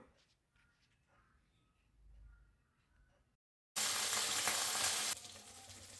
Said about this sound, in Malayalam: കോളിഫ്ലവർ നമ്മൾ ഫ്രൈ ചെയ്ത് മാറ്റണേ രണ്ടും എണ്ണയിൽ നമ്മൾ ഒന്ന് ഫ്രൈ ചെയ്ത് മാറ്റിയാലേ